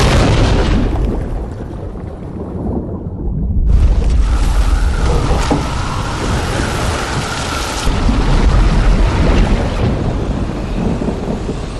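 Heavy rain pours steadily as rolling thunder rumbles loudly through, with no voices present.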